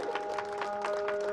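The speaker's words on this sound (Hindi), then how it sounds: "जोरदार तालियां होनी चाहिए।" Clapping from an audience at a stage event in a village bazaar, a steady dense patter of hands with a faint sustained musical tone underneath, moderately loud and continuous throughout.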